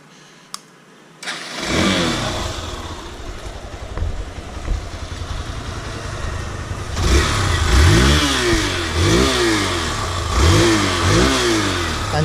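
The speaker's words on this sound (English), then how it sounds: "And now we'll be seeing the exhaust note of this bike." A Hero XPulse 200T 200cc motorcycle cranks and starts after a brief quiet moment, idles with a steady exhaust note, then gets revved in several rising and falling bursts close to the microphone.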